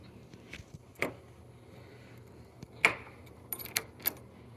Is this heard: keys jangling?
yes